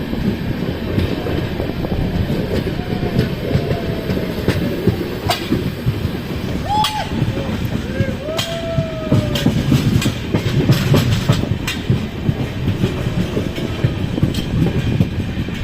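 Kamakhya–Anand Vihar Express running on the track, a steady loud rumble with clickety-clack wheel beats and occasional faint squeals, heard continuously from on board.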